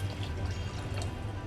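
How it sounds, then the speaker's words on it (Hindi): Water pours into a pot of soaked masoor dal in a home kitchen, a soft, steady trickling stream heard close up and fairly quiet, with faint hum beneath. "अब डालते हैं हम इसमें पानी ताकि दाल हमारी बहुत अच्छी तरह से गल जाए।"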